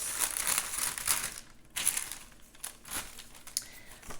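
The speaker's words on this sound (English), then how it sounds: "This plastic bag. Oh no, I cut it." A plastic bag crinkles and rustles close by while being handled, with irregular crackling bursts and brief pauses.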